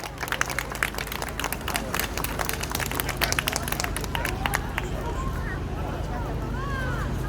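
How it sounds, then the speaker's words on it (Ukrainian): Audience applause at a concert hall as gifts and bouquets are handed to guests, dense rapid clapping from a sizeable crowd with murmuring voices that fades into a lighter patter toward the end. "Оплески!"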